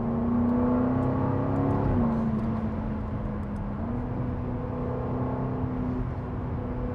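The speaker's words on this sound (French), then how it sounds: "vous l'entendez, l'échappement sport s'est activé lui aussi" A Jaguar F-Type R with its V8 and sport exhaust active holds a steady low engine drone, with a slight rev change near the second mark, heard from inside the car without talk.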